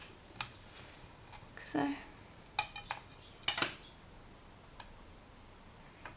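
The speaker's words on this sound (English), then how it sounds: "we're just going to chop it into pieces now" A blade chops polymer clay into pieces on a hard work surface, making a handful of sharp, scattered clicks and taps with quiet gaps between them. A person speaks briefly.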